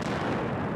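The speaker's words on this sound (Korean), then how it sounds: "조금 전 12시 폭발음과 진동이 현장에서 일어나면서" A demolition blast at units 4 and 6 of the Ulsan thermal power plant's boilers gives a loud, dense rumbling burst lasting under a second, broad and booming throughout.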